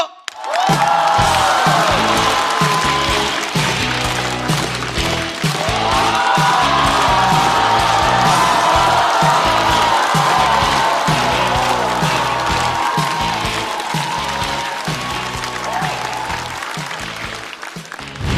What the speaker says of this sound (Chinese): 掌声有请二哥